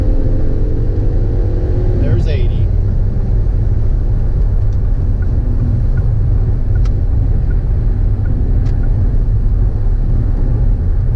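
A Ford 500 sedan accelerating hard up a freeway on-ramp, a steady loud engine and road rumble heard from inside the cabin, with someone speaking briefly over it.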